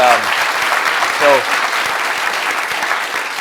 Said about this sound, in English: Let's give Nolan one more big round of applause